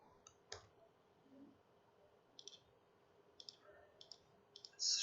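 A computer mouse clicks several times while code is submitted, producing sharp, isolated, quiet clicks spread irregularly across a near-silent background.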